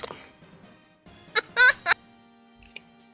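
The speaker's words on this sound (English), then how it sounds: "Why are there so many bird noises now?" Bird calls in a video game, a few short loud squawks and gobbles bunched close together in the middle, then a faint chirp near the end over a quiet background hum.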